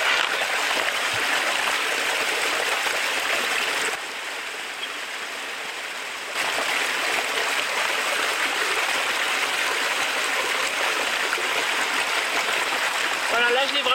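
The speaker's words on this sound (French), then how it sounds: "Vous voyez l'eau qui arrive là." Water trickles and splashes steadily into a 1-liter container for a Sawyer Mini filter, filled from a small cascade, a continuous close hiss of flowing water that briefly softens midway, no voices.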